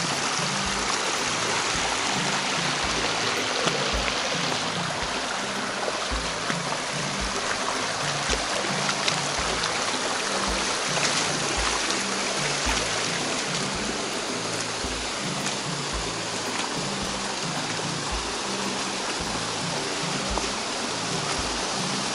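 Cascata das Furnas waterfall at Vila Nova de Milfontes, Portugal, in summer, a constant broadband rush of falling and splashing water, close and steady throughout, with a faint rhythmic low thumping underneath.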